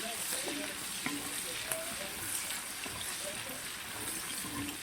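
Dried onion slices fry in a pan over medium heat, a soft, faint crackling sizzle running evenly with light stirring ticks.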